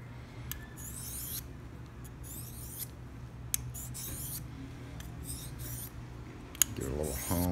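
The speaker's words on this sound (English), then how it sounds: "give it a little hone here, quick, unsteady hone." A blade being honed on a diamond sharpener: quick, unsteady rasping strokes, close and fairly quiet, over a steady low background hum, with a couple of sharp ticks.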